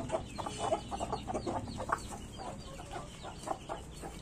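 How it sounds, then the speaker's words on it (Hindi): Desi hens in a coop cluck close by in a busy, overlapping run of short calls, with a rooster among the flock, under steady farmyard background noise. "ये खुड़क मुर्गियाँ हैं और इसमें से दो मुर्गियाँ अंडे दे रहे हैं"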